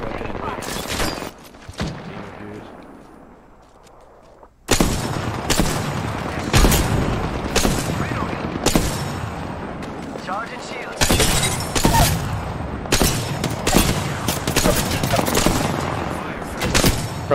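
Gunfire from the video game Apex Legends bursts out in rapid, loud volleys that crack and roar almost nonstop after a quieter opening, mixed with game effects and players talking over it.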